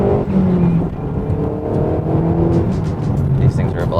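A Mazdaspeed3 accelerates hard during a pull, its loud, close engine a steady, growling drone for the whole stretch, with no talk over it.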